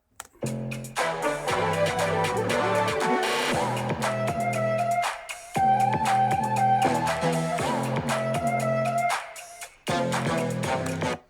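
Music with steady beats and melodic tones playing loudly through the small built-in speakers of a Lenovo Legion 9i Gen 10 laptop at full volume, cutting out briefly twice before resuming; no one speaks.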